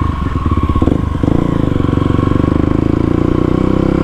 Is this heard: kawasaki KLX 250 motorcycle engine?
yes